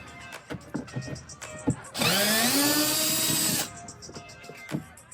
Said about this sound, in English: Let's use our T27 Torx and go right here.